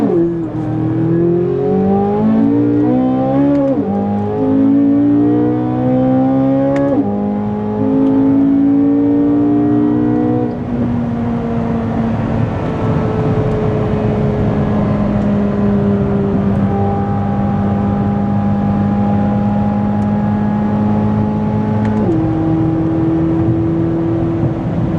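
Corvette C8 Z06 fitted with an Eventuri intake pulls hard through the gears, engine note climbing steeply with quick shifts, then settling into a steady high drone; loud and close throughout, no voices.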